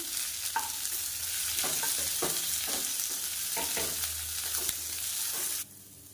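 Onion, garlic and a handful of curry leaves sautéing in a pan, a dense close sizzle broken by repeated scraping stir strokes, cutting off abruptly near the end with no talk.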